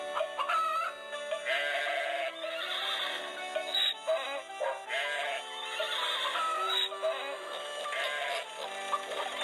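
Farmyard animals calling in a chorus, with a rooster crowing, chickens clucking and a horse whinnying among other barnyard cries, layered and continuous for several seconds at moderate loudness.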